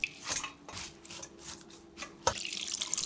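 Water that potatoes were soaked in is poured into a colander, a splashing gush with a sharp clatter near the end, close and fairly quiet, with no talking.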